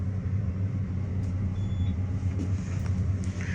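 A 1974 Dover hydraulic elevator car runs in a hotel, a steady low motor rumble and hum with a faint whine, continuous and fairly loud from inside the cab, with no talking.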